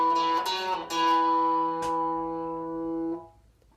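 A guitar plays a blues bass-string pattern: a few quick plucked notes followed by ringing sustained tones that decay and fade out, played alone.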